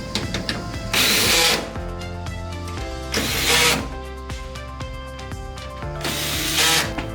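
A power drill with a high torque setting whirs and ratchets in bursts, its clutch clicking rapidly between loud surges as screws are driven into a Ford Transit High Roof partition, close and without speech.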